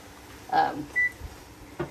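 Kitchen oven being switched off while making a scrambled egg omelet, short electronic beeps, two clear tones about half a second apart and a faint third, over quiet room noise.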